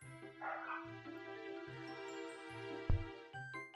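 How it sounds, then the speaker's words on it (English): Dogs in a house bark and yip in a series of short bursts, fairly faint and somewhat distant, over a steady background hum with one sharp thump partway through. "I don't know why my dogs are going off."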